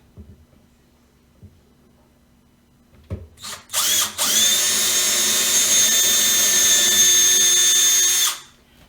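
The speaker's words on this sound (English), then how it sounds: "drill pilot holes first so you don't split the wood on the back of your cabinet" A power drill drills pilot holes into cabinet wood, starting with a few short bursts, then whirring steadily at high speed for about four seconds before winding down, loud and close.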